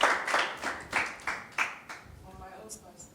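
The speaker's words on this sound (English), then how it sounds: "Let's clap for her." Audience claps for someone speaker at a talk on the science of attraction: a burst of hand-clapping repeating in loose pulses, moderately close, fading out with a faint voice near the end.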